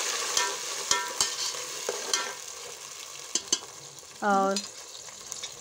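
Chopped onions frying and stirred in a pan for chicken gravy, soft sizzle under sharp scraping clicks of a spoon, close, with a brief spoken word near the end.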